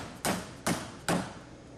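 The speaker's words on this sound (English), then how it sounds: "remove the entire main shaft out of the pump by tapping with your hammer" A hammer taps the main shaft out of a concrete pump in three sharp, evenly spaced metallic knocks, each close and clear with a short ringing decay, no voices.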